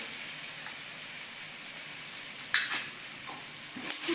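Spiced puffed rice (mandakki) mixture with turmeric and salt frying in a pan over a gas flame, a steady close sizzle with soft stirring scrapes and a couple of brief louder hisses near the end.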